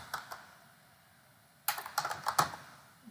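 Keys clack on a computer keyboard while text is entered into a Jenkins job form. A couple of isolated taps come first, then a quick, close burst of keystrokes after a pause.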